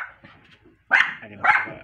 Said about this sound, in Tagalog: So ganito po magsalubong ang aso.